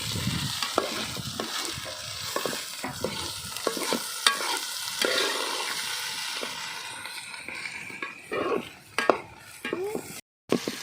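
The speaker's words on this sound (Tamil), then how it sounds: "நறுக்கி வச்சிருக்க சின்ன உள்ளியை அதில் போட்டுக்கோங்க." Small onions sizzling in coconut oil in a pan, stirred with a utensil that scrapes and clinks against the pan in irregular knocks over a steady frying hiss.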